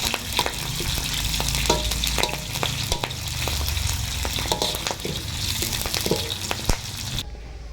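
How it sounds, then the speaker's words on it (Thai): Kaffir lime leaves and red chilies frying in hot vegetable oil, a loud continuous close sizzle with crackling pops and occasional stirring scrapes, no talking. "ทอดใบมะกรูดก่อนนะจ๊ะ บอยใส่น้ำมันพืชเนาะจ้า"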